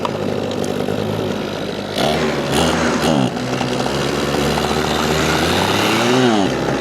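A Redmax HTZ2460 hedge trimmer's small two-stroke engine runs close by, buzzing steadily with a few brief revs and dips and an uneven, rough note.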